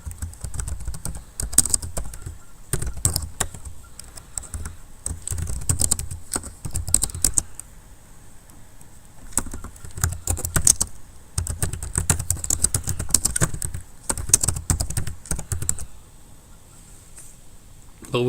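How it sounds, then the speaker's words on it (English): Computer keyboard typing text into an editor, close and clicky in quick irregular runs broken by short pauses, with no talking over it. "We can type text into it."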